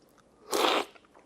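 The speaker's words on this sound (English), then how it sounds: "Wow, quite a slurp there." A loud slurp of black tea during a tasting, one sharp hissing burst of air and liquid lasting under half a second against a quiet background.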